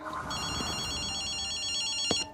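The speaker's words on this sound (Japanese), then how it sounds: "電話だぜ。" Telephone ringing in the video game Ghostwire: Tokyo, a steady electronic trilling ring sounding continuously and fairly close over a low background hum, cutting off after about two seconds.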